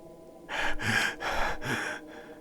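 A woman takes four ragged, gasping breaths in a row, close and strained, as if struggling to get air.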